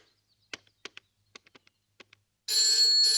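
A string of soft clicks like a phone being dialed, followed by a loud, steady electronic ringing tone as the call goes through to a police station.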